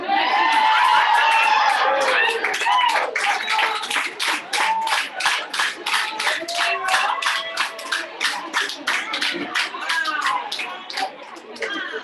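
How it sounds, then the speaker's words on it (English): Audience at a Uganda 2021 kick-off meeting claps loudly and rhythmically in a dense, close burst, thinning into separate claps, with scattered laughter and chatter mixed in. "Let's give her a big round of applause."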